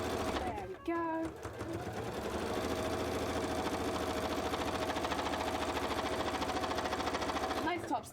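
A domestic sewing machine runs fast in a rapid, even mechanical chatter for several seconds while sewing a top stitch on a cosplay piece, with brief starts and stops at the ends, close and alone.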